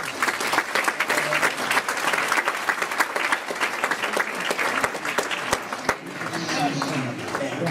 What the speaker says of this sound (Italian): Vi accogliamo con un grande applauso.